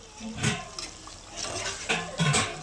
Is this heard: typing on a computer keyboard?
no